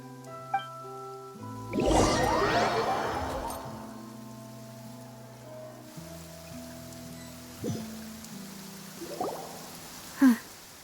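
Rain falls steadily in the video game Genshin Impact, a soft hiss of drops spread under game music, with a few louder splashes and taps standing out near and briefly.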